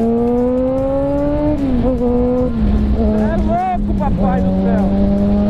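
A Yamaha XJ6 motorcycle launches hard up a slight incline, its engine note rising through the revs with audible gear changes, loud and close, while a rider exclaims over it.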